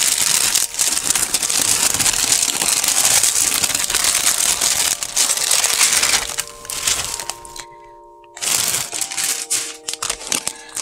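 Plastic wrapping crinkles and tears loudly off a new Chaeuda diary, a dense continuous rustle for several seconds, then a brief pause and a few more crackling handling sounds.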